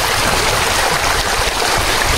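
Water rushes at the KRP dam in a loud, continuous broadband roar close by, steady with no pauses and no voices.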